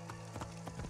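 Horse hooves gallop in Assassin's Creed Origins, a quick, steady clip-clop rhythm of several footfalls over a soft bed of game ambience.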